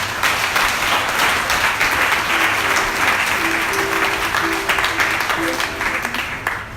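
A church congregation at a revival service applauds and cheers steadily, a dense crowd sound throughout with some voices rising in the mix.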